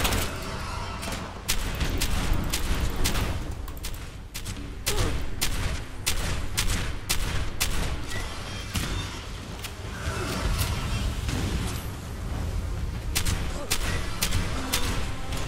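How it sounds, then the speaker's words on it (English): Explosions and gunfire rumble and crack almost without pause in the video game Fallout 76, a dense, loud barrage of overlapping blasts with no voices heard. "what the fuck just blew up right there? Who's exploding shit?"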